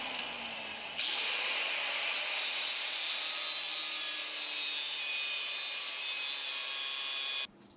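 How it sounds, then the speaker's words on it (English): A continuous harsh, high-pitched grinding of a cutting tool biting through metal, cutting a katana habaki casting free from its sprue base, loud and steady for several seconds before stopping abruptly. "Next, I cut the casting free from the sprue base."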